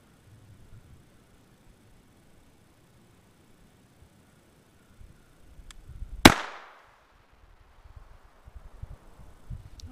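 One sharp, loud firearm gunshot cracks out midway through a mostly quiet outdoor stretch, followed by a short decaying echo and faint rustling. A fainter click or pop comes earlier.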